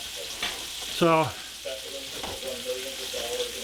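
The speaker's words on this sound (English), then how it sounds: "you're hearing the sizzling in the background." Stir-fry style vegetables from a bagged mix sizzle and crackle steadily in a pan on a home stove, a continuous hiss beneath a voice speaking close by.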